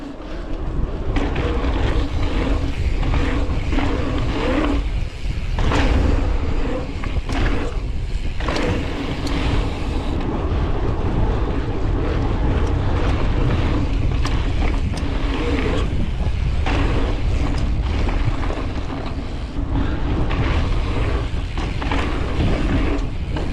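A BMX bike rolls a lap of a dirt track at an urban bike park, tyres rumbling steadily close to the mic under heavy wind buffeting, with occasional creaks and rattles from the bike.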